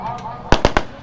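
Firecrackers go off during a Chhath festival gathering, three sharp cracks in quick succession close by, following a softer pop and heard over talking voices nearby.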